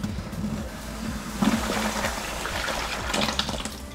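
Water drains from a sand trap and pours, splashing steadily, into a bucket, a continuous gushing flow with a brief louder spurt midway.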